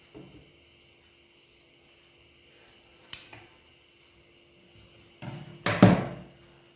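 Scissors cutting chudidar fabric together with its lining, a few short crisp snips and rasping slices spaced apart over a quiet steady hum, close and alone.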